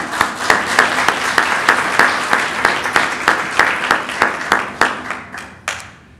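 A Hispanic Baptist church congregation claps, starting as mixed applause and settling into loud, rhythmic unison claps at a steady beat that thin out and stop near the end.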